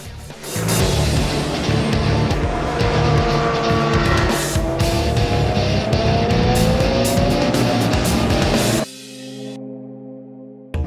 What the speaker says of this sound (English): The 350 horsepower M3 turns his rounds into the evening sun of Dubai.